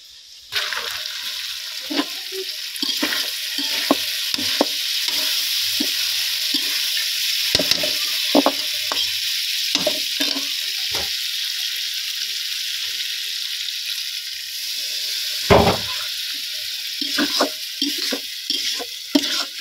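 A vegetable curry sizzles and fries in a pan while being stirred, a steady hiss broken by repeated scraping knocks of the utensil against the pan.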